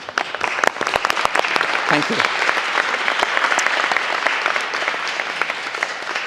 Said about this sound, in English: I'll clap for them, yes.